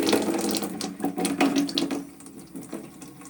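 Tap water running at a homestead in Italy, a loud continuous splashing gush that eases and becomes quieter and more broken over the last second, with no voices.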